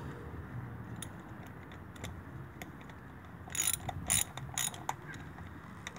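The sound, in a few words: tightening bolts on Warn locking hub, 2000 Nissan Xterra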